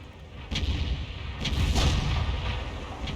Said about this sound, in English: One decent HE round is going to put him out.